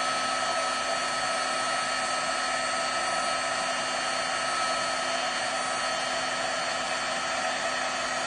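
A hair dryer blows continuously to heat-dry a craft piece, giving a loud, steady whirring rush that stays even throughout with no breaks and no voices.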